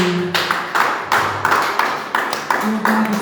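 A church congregation claps hands in praise, loud and close, in a roughly regular rhythm of repeated bursts of clapping with a few sustained voices faintly beneath.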